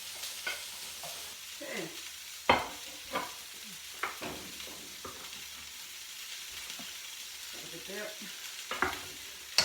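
Carrots and other vegetables being stirred in a hot pan for a vegetable stir-fry, with soft sizzling and a few sharp utensil scrapes and clacks against the pan, a brief voice speaking now and then.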